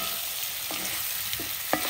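Spices tempering in a pan for a coconut-based breakfast dish, a steady close sizzle of frying with a few sharp scrapes and clinks of stirring, no voices.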